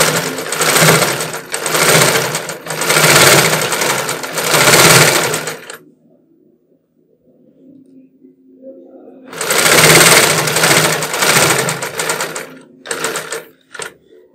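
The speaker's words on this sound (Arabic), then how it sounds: "اذا عندك ماشين الزيكزاك هي اللي غادي نخدم بها" A zigzag sewing machine stitches fabric in loud, fast rattling bursts, with a pause of near silence before it starts again and ends in short runs.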